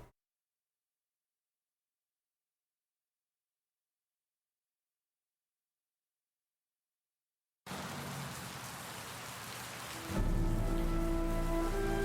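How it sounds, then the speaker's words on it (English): Rain in the video game Heavy Rain hisses in abruptly after a long stretch of total silence, then continues under a low droning hum with steady tones for the last couple of seconds. "So much rain."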